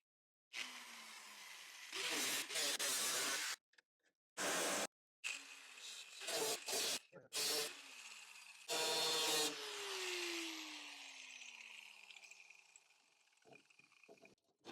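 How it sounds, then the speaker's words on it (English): Side grinder cutting through a van's metal body for a window install, in loud broadband bursts separated by short pauses and a few trailing whines as the disc spins down; no talking. "side grinder here."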